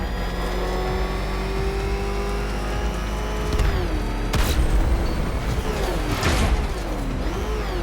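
A car engine in Batman: Arkham Knight drones steadily, then surges into loud revving and acceleration with sharp bursts and a booming hit midway, the pitch swinging up and down toward the end.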